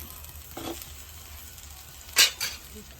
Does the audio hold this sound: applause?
no